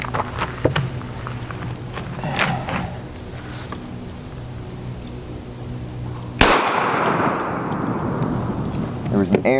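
A single sharp 5.7x28mm gunshot fired at a level 3A armor panel cracks loudly near the end, following quieter outdoor handling noises and faint voices.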